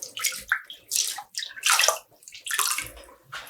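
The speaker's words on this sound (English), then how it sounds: "Squeezing out water." Water wrung by hand from a skein of freshly dyed tweed yarn splashes and dribbles close by in several separate squeezing bursts, each separated by brief pauses.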